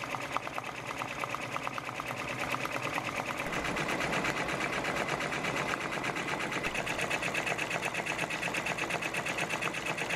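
A domestic embroidery machine stitches steadily in a home workspace, its fast even needle rhythm running continuously and fairly loud throughout, with no talking.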